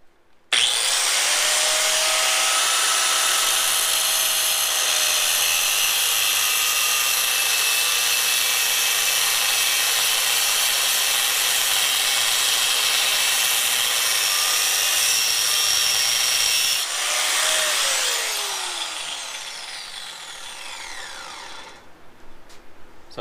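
A cutting tool grinds through a steel wheel pin and the flange of a nut on a Honda CX500 Comstar wheel, a loud, steady, high-pitched screech lasting about seventeen seconds before winding down.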